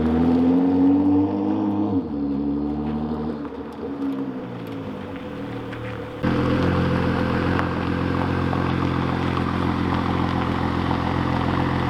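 A Ford GT's V6 engine hums with a smooth, tonal drone, dips briefly, then swells louder and fuller as it pulls away under steady throttle.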